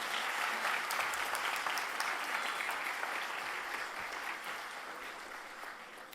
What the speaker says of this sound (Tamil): இந்த கைதட்டு 10 அக்காவுக்கு